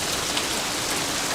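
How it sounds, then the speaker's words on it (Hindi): Steady, dense rain pours down in an action-film street scene, a loud, even hiss that fills the whole moment without pause or voices. "अरे बारिश हो रही है, अंदर आ जा"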